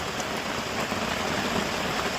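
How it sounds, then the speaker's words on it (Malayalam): Heavy rain pours down steadily outdoors during breakfast, with wind blowing, as a dense and even hiss of falling water with no break. "ഇപ്പോൾ നല്ല മഴ പെയ്യുന്നു, കണ്ടോ?"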